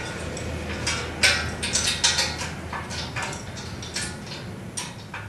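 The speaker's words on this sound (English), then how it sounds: "now it's time to tighten up all 4 nuts and bolts" Nuts and bolts being tightened on a screen printing press, heard as faint scattered metallic clicks and light ticks over a low steady background hum, nearby and with no speech.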